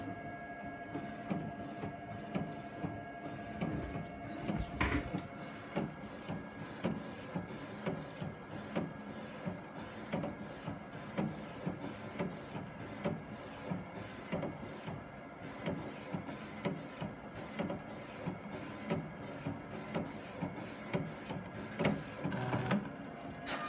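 An Eddie edible printer runs as it prints custom M&Ms: a steady mechanical whirr with repeated rhythmic clicks and carriage movements, close and continuous, with no talking.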